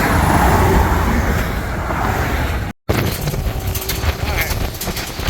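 Highway traffic on the I-87 rushing past close beside a crash truck, a loud continuous roar of passing vehicles with a brief dropout midway, then steady road noise with some rattling.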